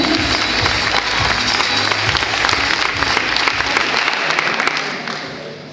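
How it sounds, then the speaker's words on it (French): Loud, dense applause fills a hall at a wedding fair fashion show in Noyelles-Godault, a continuous crowd of clapping hands that holds strong before tapering slightly at the end. "Allez messieurs, je vais vous les applaudir très très fort."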